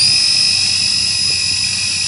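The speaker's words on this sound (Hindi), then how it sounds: "इसका साउंड तो पूरा ओरिजिनल लग रहा है, जैसे ओरिजिनल हेलीकॉप्टर का लगता है।" Small cheap RC toy helicopter running, a loud, steady high-pitched motor whine with a fast rotor flutter underneath, close by and continuous with no talk.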